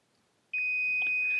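A Power Probe continuity tester gives a steady high electronic tone that starts abruptly after a short near-silence and holds without a break, checking an AC compressor wire to ground.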